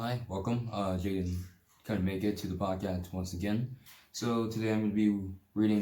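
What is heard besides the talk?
None of the usual background noises is heard.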